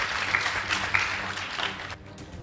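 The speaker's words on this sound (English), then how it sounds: "Please give them a round of applause." A school audience at a debate competition breaks into brief, steady applause, with many hands clapping together before the sound drops away sharply.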